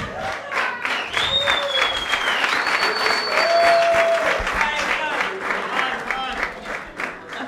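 A studio audience at a comedy roast show applauds continuously, the clapping loud and sustained, with cheers and whoops riding over it and voices in the crowd.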